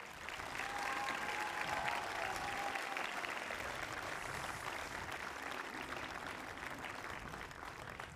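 Steady, dense applause from a large crowd at a political rally in Levens fills the whole stretch, loud and sustained without pause, with faint cheering mixed in.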